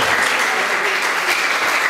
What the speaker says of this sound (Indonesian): Kalau mau tepuk tangan, tepuk tangan.